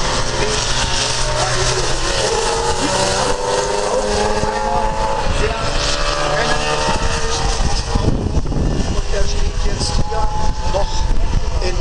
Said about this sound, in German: man hört, der Motor läuft